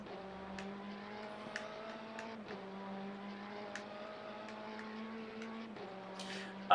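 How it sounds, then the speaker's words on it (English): Steady whine of a race car engine in the racing game Le Mans Ultimate, holding a sustained pitch with brief dips as gears shift, ending in a sudden louder burst. "Love the sound of that car."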